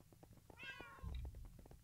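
A short, faint cat meow in Minecraft rises and falls once over a quiet background with soft clicking.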